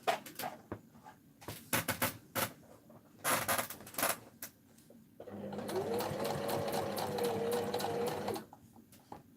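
A sewing machine stitches zigzags on a fabric book made to hold crochet hooks, starting with a few light taps and clicks, then running as a steady, even whirr for about three seconds before it stops.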